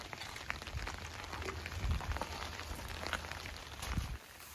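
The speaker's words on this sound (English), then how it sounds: "the rain is not going to let up today" Rain falls steadily in a garden as a quiet, even hiss with scattered patters, broken by a few soft thuds and no voices.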